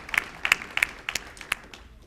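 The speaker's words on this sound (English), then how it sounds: "Let's please give a round of applause to these excellent examples of organizations who have excelled." Scattered applause from an awards ceremony audience, a handful of separate claps spread across two seconds rather than a full ovation, moderately near with no talk over it.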